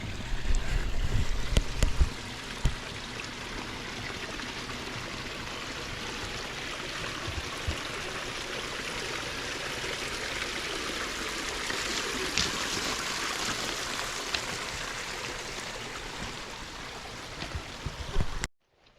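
Water rushes and trickles steadily in a continuous moderate wash, like a flowing creek, with a few handling bumps at the start and end.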